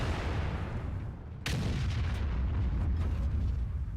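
An artillery gun fires once in World of Tanks, a sharp loud boom with a rumbling tail that hangs over a continuous low battlefield drone.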